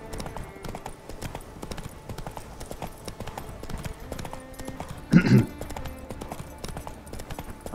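A horse's hooves clip-clop in a steady rhythm while riding across Skellige in The Witcher 3, with a brief louder snort or whinny partway through.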